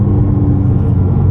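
Ferrari 550 Maranello under way, a steady low engine and drivetrain drone filling the cabin, close and loud with a faint higher whine riding over the rumble.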